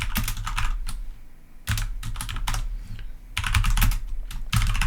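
Rapid clicking of keys on a computer keyboard, typed in several quick bursts separated by brief pauses, close and clear with no talking.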